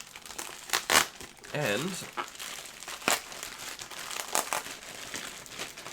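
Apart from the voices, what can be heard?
ripping open a package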